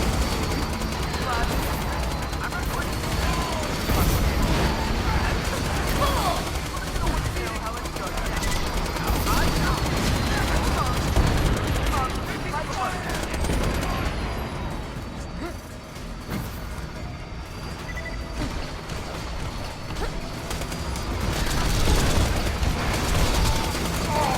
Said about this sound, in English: So now I just gotta shoot them with my normal ass SMG.